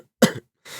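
A man coughs once sharply and close, followed after a short pause by a softer breathy exhale or throat sound.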